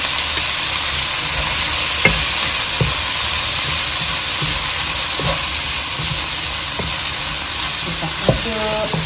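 Tripe and Chinese cabbage sizzle steadily in a frying pan with loud continuous hiss, while a utensil stirs them with scattered scraping knocks.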